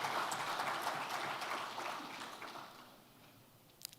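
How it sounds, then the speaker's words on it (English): An audience claps at the African Conference on Debt and Development, a soft, distant patter of many hands that thins and fades out over a few seconds. "You've stopped clapping too fast."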